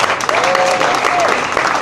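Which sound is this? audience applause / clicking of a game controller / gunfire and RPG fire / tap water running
audience applause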